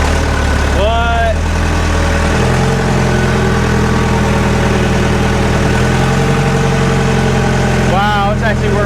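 An old forklift engine runs loudly and steadily while driving, a constant close rumbling drone with squeaky mechanical whines near the start and end.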